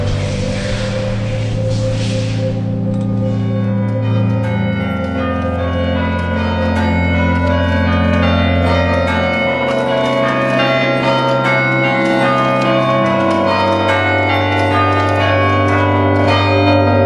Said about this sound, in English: This is the chiming apparatus to chime the bells up in the tower.